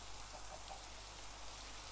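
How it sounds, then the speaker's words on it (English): Rain falls in Minecraft as a steady, faint, even hiss of rainfall with no break and no talk over it. "That's a lot of rain."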